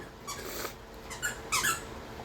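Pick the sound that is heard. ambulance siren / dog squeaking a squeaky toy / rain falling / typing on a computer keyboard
dog squeaking a squeaky toy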